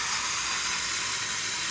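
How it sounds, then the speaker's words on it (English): Cucur topi fritters sizzle in hot oil at a Kelantan street food stall, a steady, close, bright hiss of frying with no voices. "You can see how it's frying on the side."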